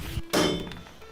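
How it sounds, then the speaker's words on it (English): A single loud metallic thunk of a big hammer striking bolts during a vehicle teardown, sharp and close, with a ringing tail fading over a second. "now we just need to hammer these bolts out"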